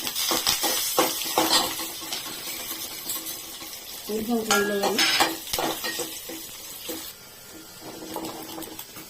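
Dried red chillies and garlic sizzle in hot oil, a tempering for gongura dal, with scraping and stirring clatters, a brief metallic squeal partway through.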